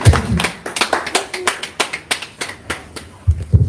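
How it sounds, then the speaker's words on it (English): Applause at a political press conference, with a modest group clapping in quick, uneven bursts for several seconds. The clapping is close and fairly loud, with no talk over it. "another round of applause for His Excellency"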